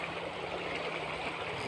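A river flows steadily nearby, a continuous soft rush of water with no voices over it.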